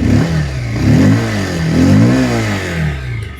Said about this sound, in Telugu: సో ఎగ్జాస్ట్ నోట్ కూడా చాలా లౌడ్గా ఉంది.